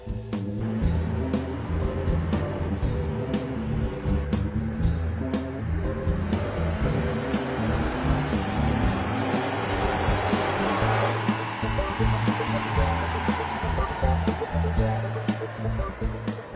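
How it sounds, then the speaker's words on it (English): A car fitted with a Gibson aftermarket exhaust, bolt-on shorty headers and a catback system, runs steadily on a dyno, its engine and exhaust holding a loud, continuous drone that swells slightly before easing off. "Now it's time to see what this Gibson exhaust can do on the dyno."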